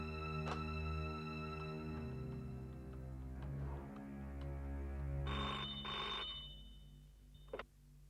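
A telephone rings in repeated trilling bursts, moderately close, with a low hum underneath and a sharp click near the end.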